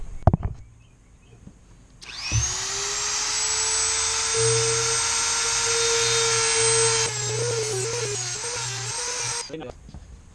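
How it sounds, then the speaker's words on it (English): A Dremel rotary tool cutting slots into screws during a Yamaha Warrior quad rebuild: a high steady whine starting after a couple of seconds, holding for about seven seconds with a pitch wobble as it bites, close and loud, with someone speaking around it. "we'll take the Dremel and I'm going to cut a flat on each of these screws so we can get a flathead screwdriver on there"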